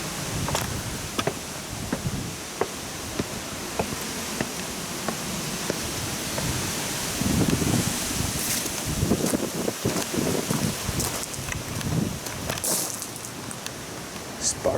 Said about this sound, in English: I know it's dead windy and whatnot.